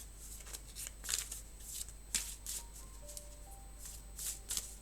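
Lenormand tarot cards are shuffled and cut, with soft riffling bursts and brisk papery flicks repeating close by, with no voices.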